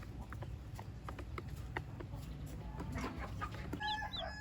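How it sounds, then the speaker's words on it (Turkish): Hens cluck softly in a barn with faint chick peeps, a bright chirping near the end, steady low background noise, no talking. "Son olarak ahırda baktığım civcivleri çekeceğim sizlere"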